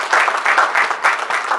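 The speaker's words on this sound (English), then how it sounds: "With a round of applause, let's welcome our chairman." A crowd applauds to welcome the chairman at the launch of a mental health NGO, a loud, close burst of clapping that swells in waves for a moment.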